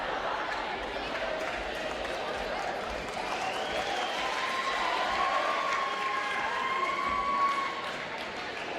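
Crowd noise in a high school gym during a volleyball match, a steady roar of cheering and chatter with a few whistles rising above it, continuous and fairly loud throughout.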